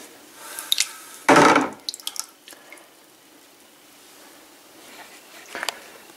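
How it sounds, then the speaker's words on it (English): A ThruNite TN4A flashlight is plunged into a bucket of water, heard as one loud close splash, then scattered drips and small sloshes, with a fainter splash near the end. "I filled up a bucket of water. Let's see how waterproof this thing really is."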